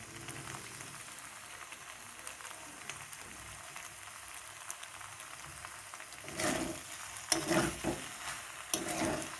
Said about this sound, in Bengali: ধনে পাতাটা দিয়ে কিছুক্ষণ নাড়িয়ে নিয়ে আমি নামিয়ে নেব।